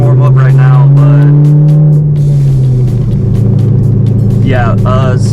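A widebody C5 Corvette V8 idles steadily while warming up, a loud, close, continuous low rumble with a slight settling in pitch partway through, and a voice talking over it.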